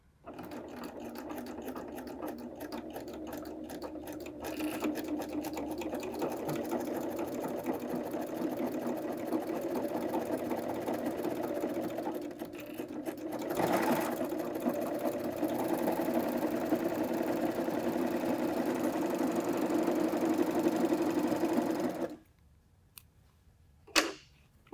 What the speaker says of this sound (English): we're going to serge off along the edge here with our 4-thread overlock